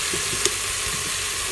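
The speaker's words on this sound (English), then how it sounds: "to the beef, I'm going to add some of my chopped onion" Chopped onion tossed onto searing beef in a Farberware pressure cooker on its sear function, giving a steady, moderate sizzle with a brief soft clatter as the pieces land, no talking.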